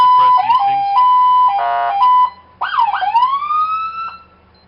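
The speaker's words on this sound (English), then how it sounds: "And then a code 3 is with all the lights and sirens" A police car siren runs through several electronic modes during a code 3 demonstration: a quick yelp, a warbling tone, then a rising wail, loud and close, ending abruptly.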